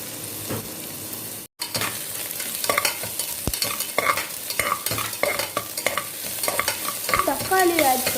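Onion, curry leaves and ginger garlic paste sizzle and fry in a pan for chicken soup, with steady sizzling under repeated stirring scrapes and a brief silent gap near the start.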